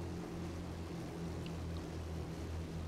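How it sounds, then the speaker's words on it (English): Steady low drone of an ME264 Spade aircraft engine in War Thunder, a continuous throbbing hum with no talk over it. "The engine sound in this aircraft is just one of my favorite selling points"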